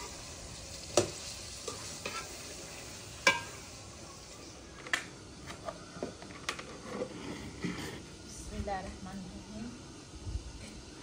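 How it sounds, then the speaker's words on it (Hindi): Black pepper frying with spinach and meat in a pan for palak gosht, a quiet steady sizzle broken by occasional stirring clicks and scrapes, while a voice talks over it. "थोड़ी जी पावांगी काली मिर्च ते नाल ना फ्राई हो जाए"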